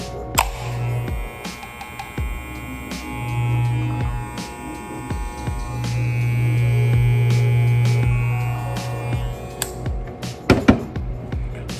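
BaBylissPRO Rose FX and Wahl Senior hair clippers running one after the other, their motors giving a steady electric hum and buzz with slight changes in pitch, close by, with a few clicks and handling knocks.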